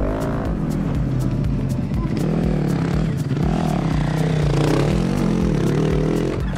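A loud motorcycle engine runs steadily close by, its pitch rising and falling as it revs, with faint clattering underneath.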